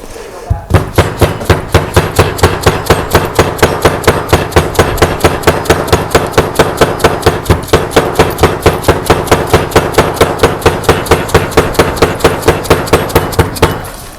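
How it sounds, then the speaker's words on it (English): A power hammer pounds rapidly and steadily while fork seals are driven into a 1999 Yamaha YZ250's forks, dozens of loud metallic blows in an even rhythm that continue without pause for the whole stretch. "we'll bring the blow hammer over."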